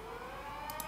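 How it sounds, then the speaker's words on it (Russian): A wavering siren sound effect plays on its own in a music production, steady and fairly faint, over a brief moment. "Это сирена"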